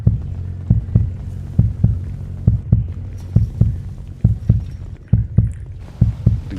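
A heartbeat sound effect from a roleplay game pounds in deep, heavy double thumps at a steady, fairly quick rhythm, loud and close over a low hum, with no talking.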